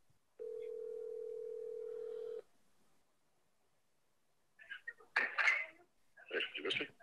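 A steady telephone dial tone sounds alone for about two seconds as a call is being placed, then cuts off; after a pause, indistinct voices talk nearby.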